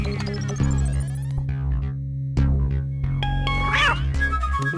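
A house cat meows in a domestic scene from a romantic comedy film, with a few short cries over a steady background music bed.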